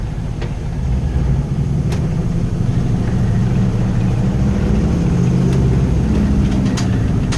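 1972 Ford Bronco crawling along in four-wheel-drive low, a steady close engine drone with rising and falling gear whine and occasional sharp clicks and rattles, no talking.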